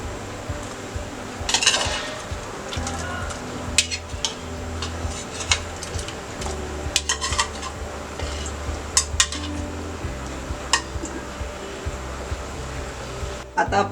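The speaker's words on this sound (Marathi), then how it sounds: "मांदेली घालून घेऊया।" Mandeli fish go into a pot of Malwani curry simmering with kokum, bringing scattered metallic clinks, scrapes and clatters of utensils against the pan over a faint background hum.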